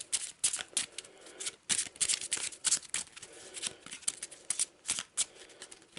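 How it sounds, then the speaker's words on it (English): A deck of cards being shuffled on a table during a board game setup, close and crisp, with quick riffling bursts and brief gaps between the shuffles. "So we'll just shuffle what's left."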